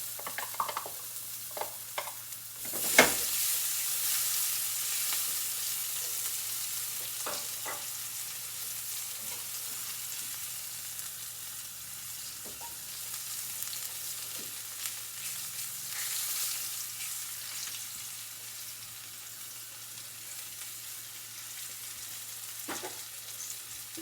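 Ginger frying gently in a pan over low heat, a soft, steady sizzle running throughout with a few brief stirring scrapes and clinks near the start, no voices.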